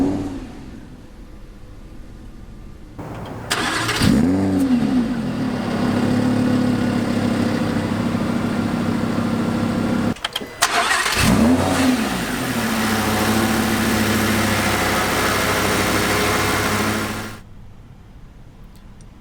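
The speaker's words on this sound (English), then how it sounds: "And that's what over 600 horsepower sounds like." A 2016 Lamborghini Huracan's V10 of over 600 horsepower revs hard twice from idle, each sharp climb followed by a sustained roaring high-rev hold before dropping back, loud and close with no talking.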